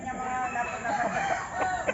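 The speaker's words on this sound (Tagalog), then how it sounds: "dami pong manok oh" Chickens and roosters at a gamefowl farm in Alaminos, Laguna, with a busy mix of clucking and crowing calls rising over farmyard background, moderately distant.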